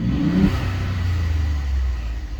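A 2018 Ford F-150 turbo engine revs as heard from inside the cab with the hood closed: a low, muffled engine drone that swells briefly at the start, then holds a steady hum.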